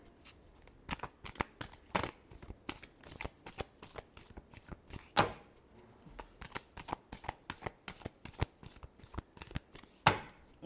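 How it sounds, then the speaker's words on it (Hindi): A tarot deck shuffled close up in a series of quick, crisp card riffles and slaps, some bursts sharper than others, with short pauses between them and no speech. "Last shuffle."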